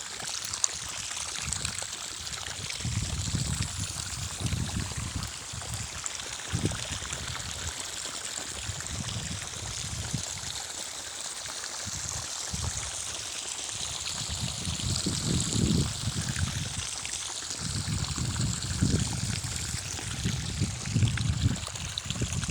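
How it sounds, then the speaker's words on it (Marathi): Irrigation water runs steadily into an onion field in a village farm, a continuous trickling, gurgling flow heard up close with no voices. "तर आता हे कांद्याला पाणी चालू केलेलं आहे."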